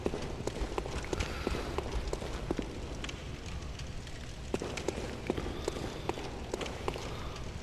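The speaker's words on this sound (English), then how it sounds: "Man, my footsteps are so loud." The player character's footsteps in Bloodborne, a video game: rapid, loud, steady steps like running, thudding continuously over a dense, noisy game ambience.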